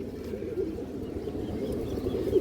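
A female pigeon, one of a mixed loft of fancy breeds such as silver and highflyer types, coos in a low steady murmur close by, the soft throaty sound running continuously with a few brighter notes.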